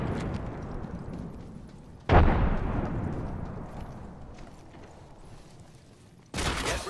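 A frag grenade goes off in Apex Legends with a sudden loud blast that rolls away into a fading rumble, followed by another abrupt burst near the end amid game noise.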